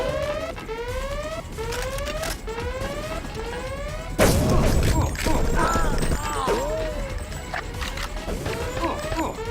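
A power generator in the Deus Ex video game blows up with a sudden loud, heavy boom midway through, after steady rhythmic sweeping electronic tones, followed by rumbling debris and game noise.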